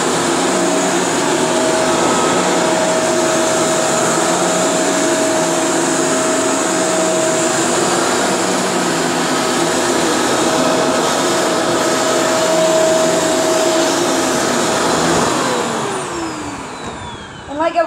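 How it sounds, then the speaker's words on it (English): A vacuum cleaner runs loud and close with a steady roaring whine for the whole stretch, then winds down at the end. "So you can just watch me vacuum."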